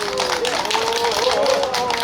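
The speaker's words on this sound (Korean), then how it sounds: "큰 박수 부탁드립니다." Audience applause at a Teacher's Day commemorative performance by a volunteer group, a steady, dense wash of clapping filling the room throughout, with a faint tonal voice or music line running beneath it.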